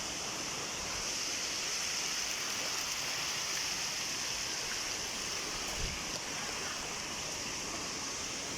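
A waterfall in Absam, Tirol, Austria gives a steady, even rush of falling water, a continuous broad hiss with no voices over it.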